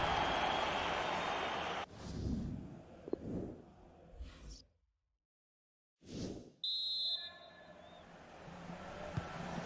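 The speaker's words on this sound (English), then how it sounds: "The half-time whistle sounds," The referee blows a short, sharp half-time whistle in a FIFA 19 Champions League final match, heard over swelling stadium crowd noise that cuts in and out.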